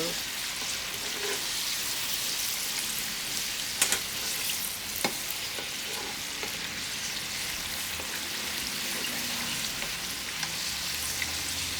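Potato wedges deep-fry in a pan of oil with a steady, dense bubbling sizzle that holds throughout, broken by a couple of brief utensil clicks.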